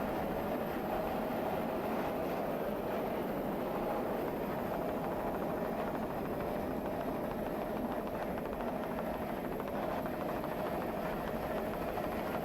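Racing powerboats in the C class at full throttle, a steady, loud engine roar that holds for the whole stretch with no break and no talk.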